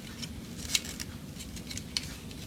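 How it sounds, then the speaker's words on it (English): Scissors work at a small tab to pop out a Transformers Superion toy's head, with two sharp snipping clicks over a quiet hiss. "I had to use scissors to reach into this little tab here to pop it out"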